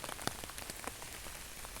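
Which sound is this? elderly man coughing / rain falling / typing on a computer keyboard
rain falling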